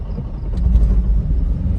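A Toyota Prius starts to move with a loud, steady low rumble that stays close and even throughout, with no talking.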